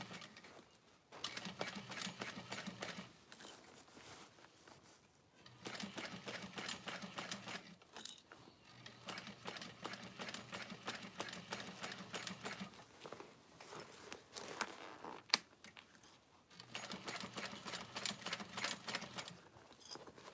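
A sewing machine stitches a piping seam on a vanity bag in steady bursts of rapid mechanical whirring, stopping and starting several times with brief quiet gaps between runs.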